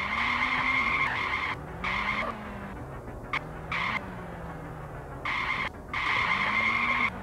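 Car tyres skid and squeal in a horror adventure video game as the car is driven hard around corners, with several sustained screeches broken by short gaps over a low engine note.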